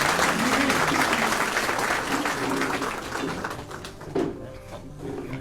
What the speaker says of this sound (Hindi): तालियों से जोरदार स्वागत विजेंद्र जी का